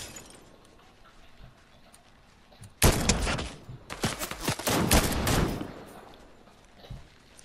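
Rapid video game gunfire bursts out after a quiet stretch, a dense run of sharp shots in clustered volleys that fades back to quiet near the end.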